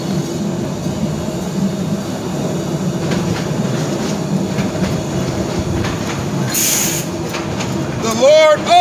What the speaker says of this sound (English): Wait till this train go by.